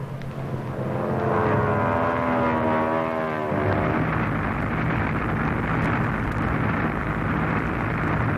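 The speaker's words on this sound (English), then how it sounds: "Streaking down from the sky at 180 miles an hour, 4 Army Air Corps planes let out their blinding curtain." Four Army Air Corps planes dive from the sky at 180 miles an hour while laying a smokescreen over a city, a loud sustained engine roar that swells and holds steady throughout, with a tonal whine fading into broadband rumble.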